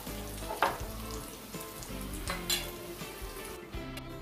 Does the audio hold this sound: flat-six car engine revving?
no